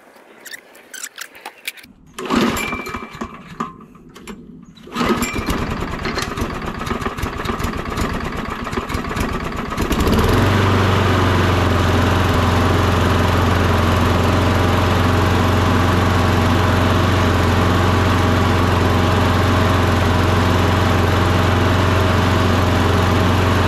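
A Toro lawn mower engine almost out of ethanol-free fuel: a few seconds of clattering and rattling, then the engine catches and runs with a loud, steady, close drone.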